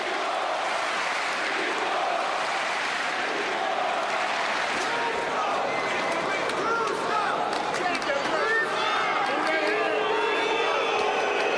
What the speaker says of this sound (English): Crowd chanting, Klitschko,